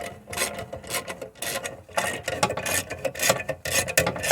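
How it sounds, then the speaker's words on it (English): A ratchet clicks in quick, uneven bursts while backing out a rear axle nut on a BMW E61 wagon during an axle replacement. The metallic rasping is close and steady with brief pauses between strokes. "got my ratchet on one of the leftmost axle nuts, and I just back it out"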